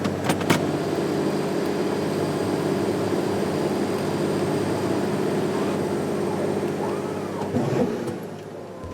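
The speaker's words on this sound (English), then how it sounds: "You'll be able to hear the high revs of the engine, and that's actually me using the hand throttle to keep the engine high and stop it from starving." A 4x4 car engine runs at steady high revs on the hand throttle, struggling near stalling, with a continuous loud drone close by and a brief knock near the end.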